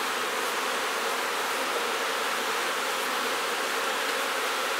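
Steady, dense buzzing of many honeybees close by at an opened hive during beekeeping, continuous and even throughout with no pauses.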